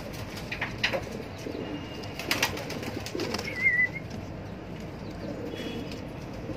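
Pigeons in a loft give soft coos and rustling wing flaps amid faint background noise, with a brief higher chirp in the middle, fairly quiet and close.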